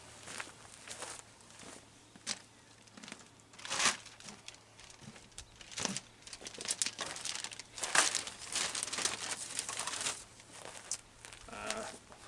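Plumbing tape being wrapped around a threaded pipe fitting while coupling two water tanks, a close, quiet run of crinkling and crackling with soft scuffs and a few sharper rustles, no speech.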